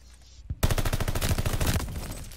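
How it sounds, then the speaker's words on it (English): Close, loud automatic gunfire from a Call of Duty Vanguard 1v1 tournament match: a rapid, sustained burst of shots after a brief quieter moment. "His shot is off. Shots, Tyler. You're shooting at the wall"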